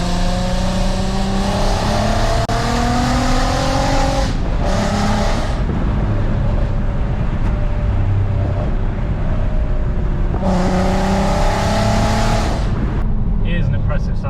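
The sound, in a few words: straight-piped VW Golf R32 exhaust engine revving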